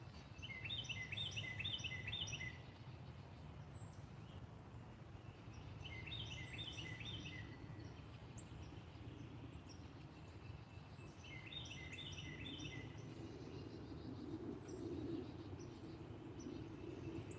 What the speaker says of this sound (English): Can you hear the birds, Heather?